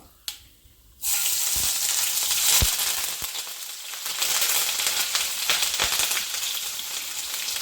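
Crushed ginger, garlic and green chili drop into hot oil with popped mustard seeds for a clam thoran, bursting into a loud, steady sizzle after a brief quiet start, with a few sharp stirring clicks and taps.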